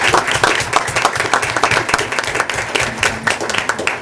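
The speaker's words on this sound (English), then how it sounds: "Let's give the moms and dads and grandmas and grandpas a big applause" Loud, close applause from a school board meeting audience honoring students' families, dense overlapping claps with some crowd murmur underneath, continuing steadily for the whole stretch.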